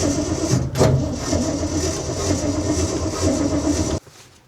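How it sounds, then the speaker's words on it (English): Old car engine cranking but not starting, a loud steady starter churn lasting about four seconds that cuts off abruptly into quiet. "So I'm just turning the key right now to start the vehicle."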